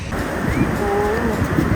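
Surf rolling in at Laem Charoen beach, a constant wash of waves and wind rumbling against the microphone, with faint voices in the background.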